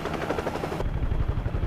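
Helicopter in the action video game Devil's Third, a steady rotor chop with gunfire-like bursts over it, loud and close and continuous throughout.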